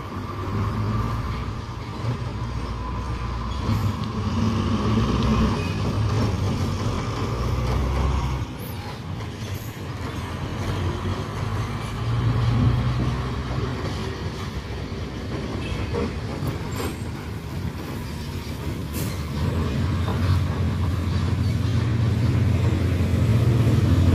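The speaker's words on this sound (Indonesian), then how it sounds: "Satu persatu dump truk mulai berangkat." Heavy dump trucks hauling soil roll past on a toll road construction site in Cicurug, a sustained low engine rumble and tire roar that swells and ebbs as the vehicles pass one after another, with no talking.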